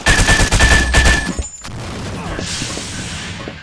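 Rapid pistol shots in the blocky shooter Blockade 3D ring out in a dense burst of cracks for about a second and a half, followed by a quieter stretch of game noise and a faint hiss.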